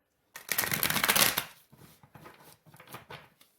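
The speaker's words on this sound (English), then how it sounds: "Let's shuffle." Tarot cards riffle-shuffled close by in one dense burst, followed by a series of softer, scattered card taps and slides.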